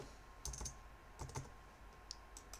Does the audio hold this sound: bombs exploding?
no